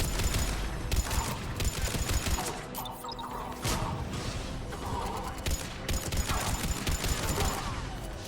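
Rifle gunfire during a firefight in Mass Effect 3: dense, rapid bursts of shots crack continuously and loudly, with brief pauses and clattering impacts between volleys.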